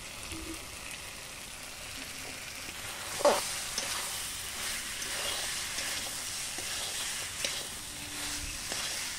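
Vegetable curry fries with added roasted spices while being stirred, producing a soft continuous sizzle and a few sharper scraping or clinking stirs near the pan.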